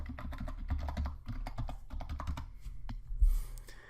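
Password typed on a computer keyboard during an online signup, a quick run of close, crisp key clicks with uneven rhythm and no speech.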